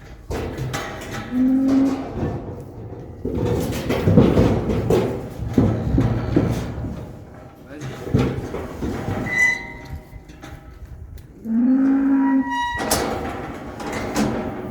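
Cattle on a French farm moo loudly and near, two long drawn-out calls several seconds apart, with farm clatter and rustling movement filling the gaps between them.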